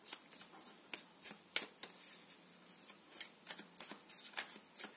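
Tarot cards are shuffled by hand in quick, irregular bursts of crisp riffling and flicking, close and fairly quiet, with no talking.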